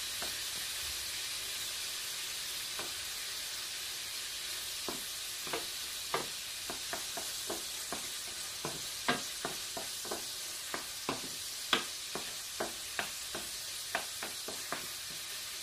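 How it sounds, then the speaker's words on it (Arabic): Seafood, fish and calamari, frying in a hot pan, with a steady close sizzle broken by a regular run of sharp clinks and scrapes as the pieces are stirred; no talking. "حمرتها وغادي نفوت فيها الحوت اللي عندنا"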